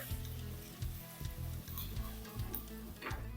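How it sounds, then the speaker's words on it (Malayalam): Ginger garlic paste sizzles steadily in a hot pan of oil, with soft stirring scrapes and crackles throughout. "ഇനി ഇതിലോട്ട് 1 ടീസ്പൂൺ ജിഞ്ചർ ഗാർലിക് പേസ്റ്റ് ഇട്ട് കൊടുക്കേ"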